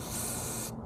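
Aerosol spray can hissing steadily onto wiring in a Nissan 300ZX during a wiring repair, a close continuous spray lasting under a second before cutting off abruptly.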